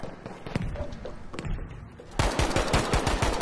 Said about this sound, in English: He's shooting us.